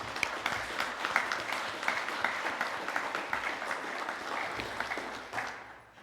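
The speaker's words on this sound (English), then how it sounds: "Please help me in applauding all worthy nominees for their outstanding achievements." Applause from an audience for nominees at a local council's Australia Day awards ceremony, a steady wash of many hands clapping, moderately distant and fairly quiet, fading out at the end.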